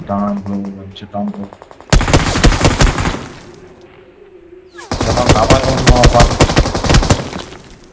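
Automatic gunfire in the mobile battle game BGMI, two long loud bursts of rapid shots separated by a lull, with a short tonal in-game sound at the start.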